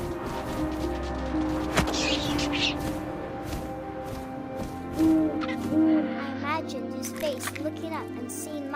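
An owl hoots in the video game What Remains of Edith Finch, soft hoots over a game soundscape with tonal music, while a narrator's voice talks throughout.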